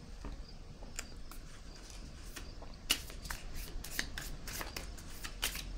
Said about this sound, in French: Je vais piger une autre carte ici.